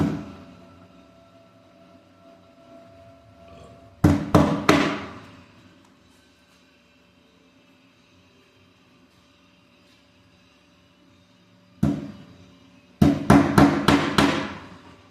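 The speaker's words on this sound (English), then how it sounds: "put the nail on it and hit it once with the hammer" Sharp metallic hammer blows on a nail punching through a beaver pelt on a stretching board, a quick burst of three strikes, then silence, then one strike and a rapid series of five more, close and loud.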